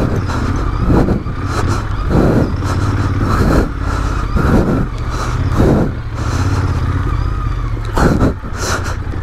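Royal Enfield Interceptor 650 and Hero XPulse 200 motorcycles ridden on rocky Gurgaon trails, with a continuous loud engine drone and repeated surges of throttle and rough-terrain bumps throughout.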